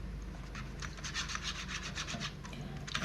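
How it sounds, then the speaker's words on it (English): A cotton Q-tip scrubbing leftover paint from the top openings of a disassembled HVLP spray gun, giving soft, quick back-and-forth rubbing strokes in a steady rhythm, close and fairly quiet, without speech. "I'm doing that until there's no more paint left on the Q-tip"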